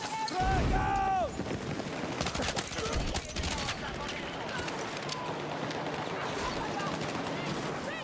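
Bursts of rapid gunfire and explosions from the video game Battlefield 6 crackle densely at close range while someone talks over the action.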